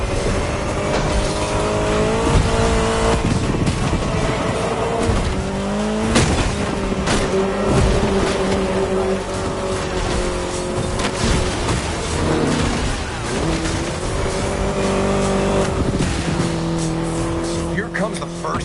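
An Austin Mini Cooper S racing in The Crew Motorfest on PS5, its small engine revving steadily with gear shifts, tire squeal and skids, loud and continuous under a voice talking throughout.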